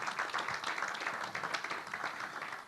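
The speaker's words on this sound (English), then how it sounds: "a round of applause" Audience applause at a Nigerian real estate investment event for community leader Prince Afolabi Andu, a soft, even patter of clapping heard at some distance, steady for the whole span.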